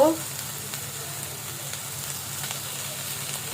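Butter frying in a pan on the stove for a home-cooked foreign-style dish, giving a steady, moderately faint sizzle and crackle that runs evenly throughout with no talking.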